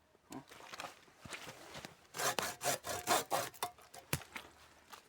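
A hand saw rasps through wood in a rapid run of back-and-forth strokes, quieter at first and then louder and more rhythmic, close by with no talking.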